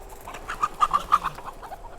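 Chickens clucking outdoors in a short run of quick, moderately close calls over light background noise.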